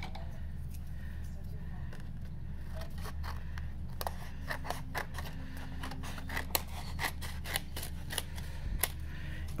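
Scissors snip through a die-cut card panel from a butterfly-themed card kit, giving a string of sharp, close cuts that bunch up in the second half over a low steady background hum.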